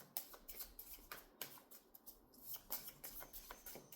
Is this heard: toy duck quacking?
no